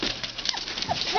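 A litter of German Shepherd puppies whimpers and yips in short, high, overlapping cries over roughly a second, close by and moderately loud.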